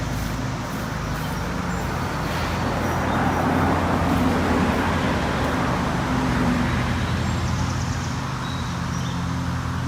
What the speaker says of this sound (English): Well, until you hear the cars.